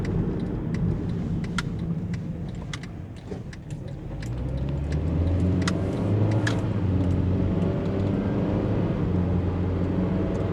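A car driving along a straight road toward town during a Friday night food-delivery shift, with a steady, close engine and tyre roar that deepens slightly as it picks up speed, and faint clicks on top.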